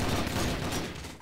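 Dense gunfire from a competitive round of a team shooter video game, a continuous loud burst of overlapping shots filling the whole moment with no talk.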